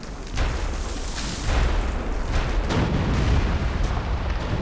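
Artillery fire in the WWII strategy game Theatre of War sounds as a series of dull, rumbling booms a few seconds apart, heavy low-end blasts over a constant battlefield din, moderately distant.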